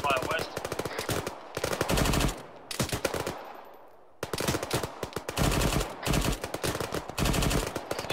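Rapid bursts of machine gun and rifle fire in the military shooter Arma III, loud and close, with long sustained volleys separated by short pauses and one brief lull.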